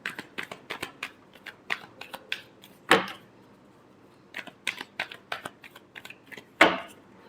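Tarot cards being shuffled by hand during a love reading, heard as quick papery riffles and soft flicks in irregular bursts, with two louder cascading riffles standing out, close and alone with no talking.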